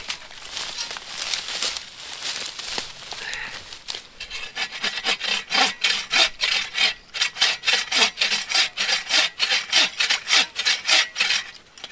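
A hand saw with a hardwood blade rips a piece of wood in half, starting with slower irregular strokes and then settling into a fast, steady rhythm of loud, close rasping strokes with no talk.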